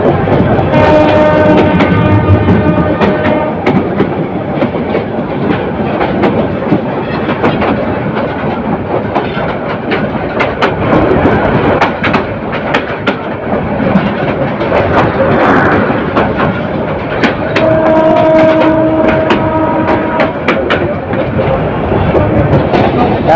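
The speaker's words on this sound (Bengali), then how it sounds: "সামনের দিক থেকে আরো একটি ট্রেন আসছে।" The Titas Commuter train rolls along the railway near Kamalapur station in Dhaka, a loud, continuous clatter of wheels over track with a couple of horn blasts sounding midway.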